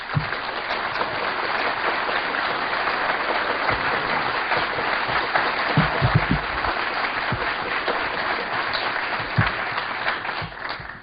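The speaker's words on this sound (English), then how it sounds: "if you will please give a warm round of applause to Mark Phillips and Cathy O'Brien" A conference audience gives a warm round of applause to welcome two guest speakers, Mark Phillips and Cathy O'Brien, a sustained wash of many hands clapping that holds steady for about eleven seconds before tapering at the end.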